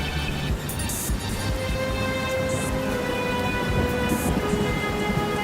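Heavy rain pours steadily while low thunder rumbles underneath throughout, with a few brighter crackles breaking through.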